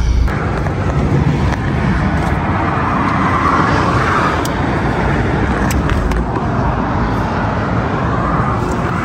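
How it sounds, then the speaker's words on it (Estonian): Traffic passes along a highway roadside in Finland with a continuous loud rush of cars going by close at hand, rising and falling slightly and never stopping, with no talking. "Nüüd me seisame siin kiirtee ääres"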